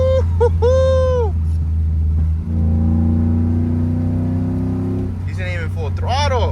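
An E85-tuned Chevrolet Tahoe with an eBay cold air intake accelerates, its engine rumble rising steadily in pitch under a constant low drone, with brief voice bursts at the start and end.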